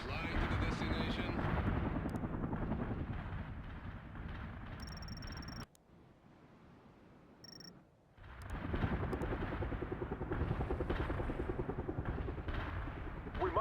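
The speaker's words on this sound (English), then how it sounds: "Helicopter out. Flying to the destination." A military helicopter in the real-time strategy game World in Conflict, a heavy rotor and engine roar mixed with gunfire and explosions, loud and continuous apart from a brief quieter dip midway.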